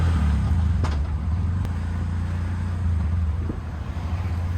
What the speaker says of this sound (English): navigate his way through this traffic, which he can with ease